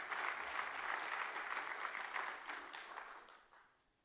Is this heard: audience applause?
yes